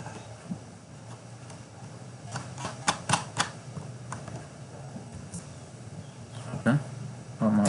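Number keys tapped on a computer keyboard while entering statistics into SPSS: a quiet room with scattered sharp clicks, a few tight clusters of keystrokes in the middle and another near the end, over a low steady hum.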